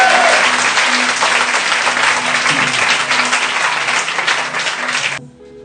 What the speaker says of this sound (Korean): Let's clap our hands and give God glory